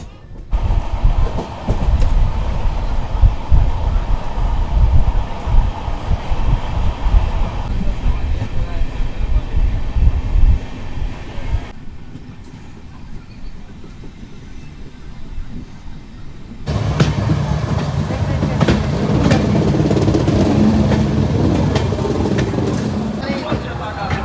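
An Amrit Bharat Express passenger train runs along the line and crosses over onto another track near Ghaziabad in India, with a steady loud rumble and rattling wheel clatter that fades and swells as the carriage sound changes.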